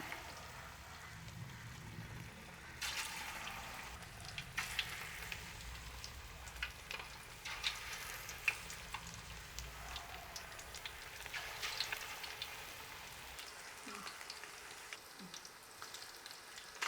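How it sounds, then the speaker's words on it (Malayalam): Chicken pieces frying in hot oil for honey chicken, a soft continuous sizzle with scattered pops and crackles, fairly quiet and close. "എണ്ണ ഒന്ന് ചൂടായി വരുമ്പം ചിക്കൻ ഇട്ട് കൊടുക്കാം"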